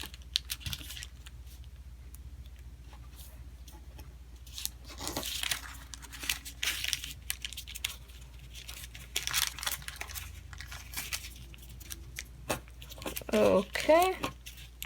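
Paper being folded and creased by hand for an origami Venus flytrap, with soft crinkles, taps and rustling bursts scattered across the stretch, growing busier toward the end, under quiet speech.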